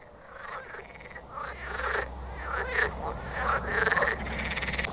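A dense chorus of frogs croaks continuously from ponds along the IJzer river in spring, many overlapping calls rising and swelling at close to middle distance.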